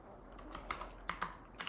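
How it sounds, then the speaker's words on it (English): Light, irregular key presses on a computer keyboard as a cat walks or paws across it, a few soft clicks scattered over a quiet background with no talking. "sorry about the cat is doing something here with my keyboard"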